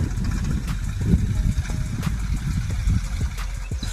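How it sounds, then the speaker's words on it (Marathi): Tractor ploughing a farm field, a steady mid-distance engine drone with faint clanks and rattles throughout. "तुम्ही बघू शकता ट्रॅक्टरने आपल्या नांगर मारायचं काम चालू आहे"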